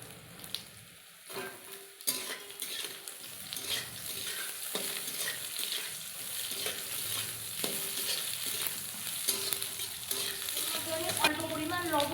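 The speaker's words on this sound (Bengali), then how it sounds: "আমি ঝিঙেটা কিন্তু ভালোভাবে ভেজে নিয়েছি" Sliced ridge gourd fries in oil with chillies and cumin seeds in a pan, a continuous loud sizzle with repeated scraping stirs throughout and a brief voice near the end.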